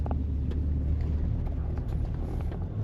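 A car rolls along a rural road in western Jamaica, a steady low rumble of engine and tyres close by, with no one talking.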